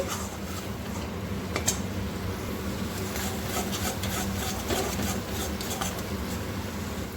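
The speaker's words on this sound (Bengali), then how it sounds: "এবার খুব ভালোভাবে মশলাটা আমি কষিয়ে নেব" Spice paste being stirred and fried in a pan for a besan and egg dhoka curry, a continuous close sizzle with scraping and clinking of a utensil against the pan, no talk.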